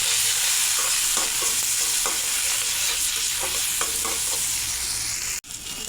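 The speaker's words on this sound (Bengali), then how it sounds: "আর একটু তেল দিয়ে দেব। ফোড়ন করে নেব কালো জিরা আর কাঁচামরিচ" Black cumin seeds and green chilies sizzle in hot oil for tempering a Bengali pointed gourd and shrimp curry, a loud close crackle with repeated stirring scrapes and a brief clatter near the end.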